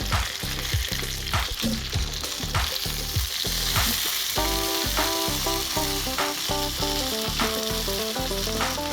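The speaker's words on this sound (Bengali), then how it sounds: "এইভাবে মাঝে মাঝে ঢাকনা উঠিয়ে উঠিয়ে পাল্টিয়ে ভালো করে ভেজে নিতে হবে" Tandoori chicken fries in a covered pan on a stovetop, a loud close sizzle with knocks as the pieces are turned, while tonal background music plays throughout.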